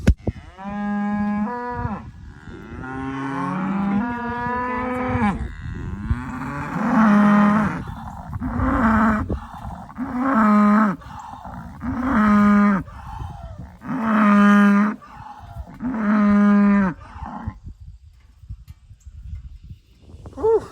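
A herd of around thirty to forty cattle, cows and heifers, moo repeatedly in a field, with long, loud bellowing calls following one another in close succession over low background noise and no talking.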